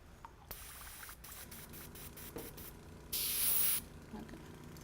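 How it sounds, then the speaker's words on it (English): An airbrush loaded with highlighter-colored paint lets out a single loud, sharp hiss of spray lasting under a second, set against a quiet room with a few faint clicks before it. "It's always the airbrush, isn't it? Always the airbrush."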